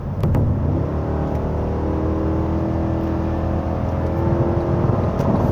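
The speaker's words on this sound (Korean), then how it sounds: "뭐 다시 한번 8기통 소리 좀 들어볼게요." A Cadillac Escalade V8 engine revs from inside the cabin, giving a strong, deep, steady engine rumble with a climbing tone, close and loud with no talk.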